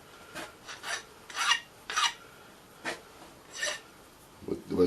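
A metal file rasps across a metal workpiece in a series of distinct, evenly spaced strokes, close and moderately loud, with some faint background noise between strokes.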